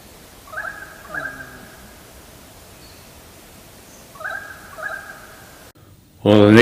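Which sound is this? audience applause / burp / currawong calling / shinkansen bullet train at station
currawong calling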